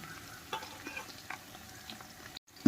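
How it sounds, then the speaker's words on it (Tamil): Onions and chopped green chillies sautéing in a pan for chicken biryani, a soft sizzle under intermittent spoon scrapes and stirring, ending with a louder clatter. "சேர்த்து நல்லா வணக்கிக்கலாம்"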